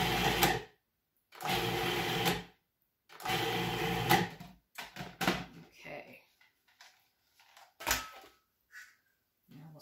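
A blender pulses homemade pesto of basil, cheese and other ingredients in three short, loud bursts, followed by softer clunks and scraping.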